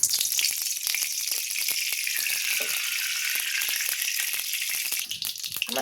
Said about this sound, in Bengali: কড়ার মধ্যে এবারে তেলটা ঢেলে দিই।